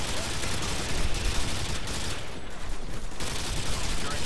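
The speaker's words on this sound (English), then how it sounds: "Don't make me flinch while I'm shooting you." Dense automatic gunfire in Call of Duty Modern Warfare 2 during a Domination match, a loud continuous rattle of shots with a brief lull near the middle.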